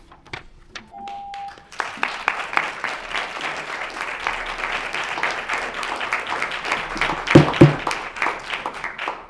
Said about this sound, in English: In between speakers, stop the applause.